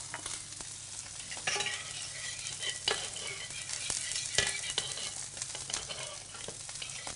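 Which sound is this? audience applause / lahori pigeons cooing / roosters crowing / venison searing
venison searing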